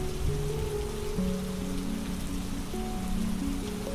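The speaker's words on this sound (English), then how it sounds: "the thunder and rain will linger a little longer, keeping you company in the quiet of the night." Steady rain falls and patters on surfaces, a continuous dense hiss beneath soft sustained musical tones, with no speech.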